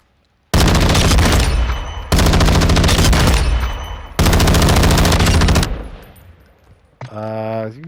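Long-range MetaGen rifle build firing in a video game, tuned for recoil stabilization: three loud sustained automatic bursts, each ringing out and tailing off, followed by a short metallic mechanical sound.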